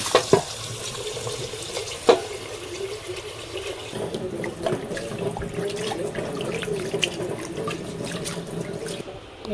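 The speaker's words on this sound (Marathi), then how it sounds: "आता इथं तांदूळ धुवून घेते." Water runs steadily from a tap with splashing and a few sharp knocks near the start, as rice is swished in a bowl under the stream.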